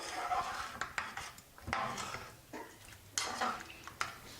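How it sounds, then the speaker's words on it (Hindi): Metal spoon scraping and clinking against a pressure cooker pot in uneven strokes as turmeric and salt are stirred into Odia dalma, close and fairly loud with brief pauses. "हल्दी और नमक डालकर हम इसे फिर से मिक्स करेंगे"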